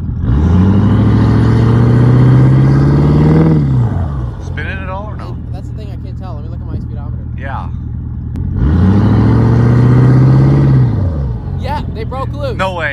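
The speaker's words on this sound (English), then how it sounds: "Okay, so we're gonna try to spin the tires." A Ford F350 truck's engine roars loudly as it spins its tires underground, revving in two long bursts separated by a quieter idle while people talk.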